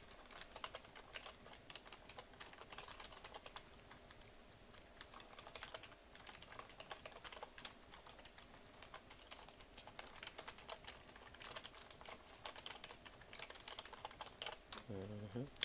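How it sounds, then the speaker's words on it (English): Computer keyboard typing, a steady stream of quick light key clicks at close range and fairly low level, running continuously with brief uneven pauses. "sometimes it's faster to type than to use the mouse"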